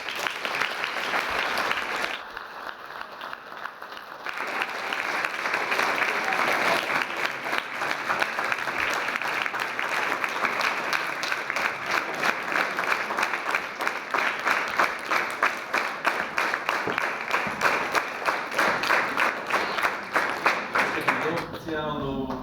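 A large audience gives a long, sustained round of applause at the close of the Boscovice 2016 gathering; loud dense clapping that dips briefly early on, then swells and holds steady, with voices faintly mixed in.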